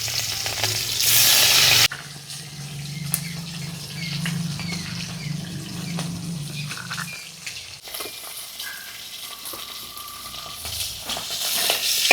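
Potatoes frying in leftover oil from frying rohu fish, a steady close sizzle with intermittent stirring scrapes, after a brief louder burst of hiss at the start.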